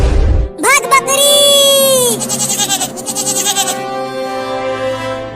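A cartoon goat bleats loudly and close, one long wavering cry followed by a shorter pulsing bleat, with a brief burst of other sound before it.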